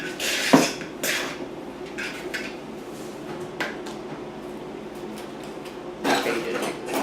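Clinks and scrapes of a utensil against a bowl while cauliflower pizza dough is mixed with seasoning, intermittent taps and knocks with louder clatters at the start and end.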